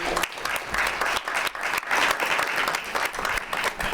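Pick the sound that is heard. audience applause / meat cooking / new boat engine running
audience applause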